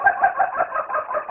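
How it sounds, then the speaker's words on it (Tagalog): A chicken in a rural Philippine setting gives a short run of rapid, nasal clucking calls, close and fairly loud, repeated in quick pulses without other sounds. "Yung makakarinig naman ako ng tilaok ng manok."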